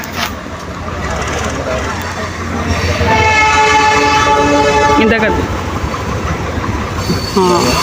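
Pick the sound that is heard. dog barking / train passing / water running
train passing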